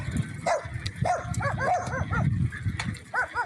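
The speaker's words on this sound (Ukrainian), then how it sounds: "Смотрите, вот одни собаки бегают." Several dogs barking and yipping in a village, repeated sharp barks overlapping at mid distance over a steady background rumble, with a voice faintly under them.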